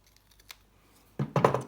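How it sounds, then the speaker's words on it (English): Scissors snipping through patterned scrapbook paper, a couple of quick crisp cuts close up after a near-silent pause. "cut off each end in line with the paper."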